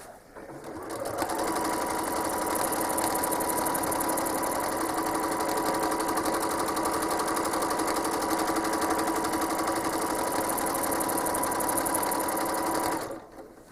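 A home sewing machine quilts a quilt in one long, steady run of rapid stitching, close and loud from start to finish before stopping abruptly.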